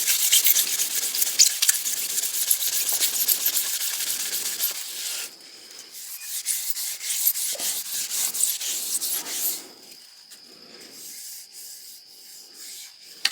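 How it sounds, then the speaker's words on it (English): Sanded hickory axe handle rubbed briskly with hickory wood shavings, a close, steady scratchy rasping in repeated back-and-forth strokes that softens partway through. "I'll try burnishing with the shavings from the hickory."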